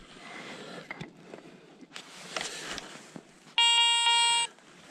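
A metal detector's watch-style electronic beep sounds once, a steady tonal buzz lasting about a second near the end, loud over faint outdoor rustling and footsteps at an ancient hillfort site in Noormarkku, Finland.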